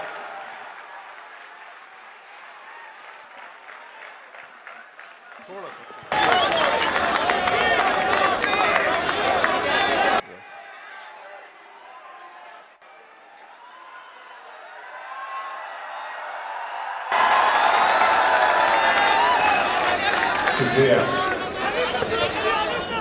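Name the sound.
mushaira audience applauding poet's welcome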